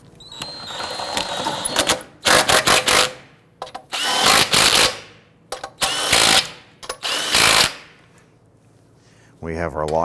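A power tool snugs down lug nuts on the wheel of a 2008-2013 Infiniti G37. It fires in a series of loud, close, rattling bursts, about five in all, with short pauses between them.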